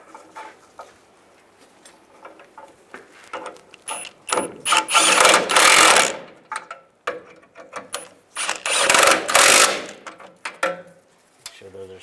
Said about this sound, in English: Now I take the 2 transmission mount nuts, put these back, get those started, and tighten them down.